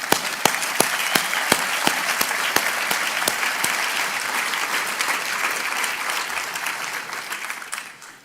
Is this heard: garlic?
no